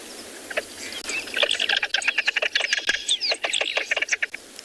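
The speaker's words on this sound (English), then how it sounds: "I'm just going to play you a little call quickly" A recorded hen call played softly: soft, rapid bird chirps and twittering calls over light background hiss, rising into a busy burst of notes before thinning out.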